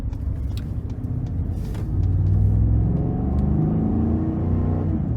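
Deep V8 exhaust rumble from a 2015 Ford F-150 Lariat with a 5.0-liter engine and six-speed automatic, steady and close while driving on the road, swelling slightly louder midway with no talking.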